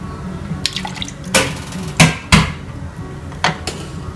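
Thirty millilitres of a premixed cocktail mixture poured into a bar measure, heard as a few short, close liquid splashes and pours separated by brief pauses and small clinks.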